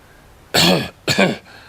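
A man gives two harsh, throaty coughs in quick succession, imitating someone coughing, close and loud.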